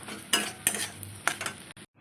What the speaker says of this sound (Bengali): ডিমটা ঝুড়ো ঝুড়ো করে ভেজে নেবো